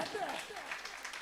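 A congregation claps hands at a night prayer service at a Marian shrine, a steady spread-out patter that sounds fairly faint and distant and carries on without a break.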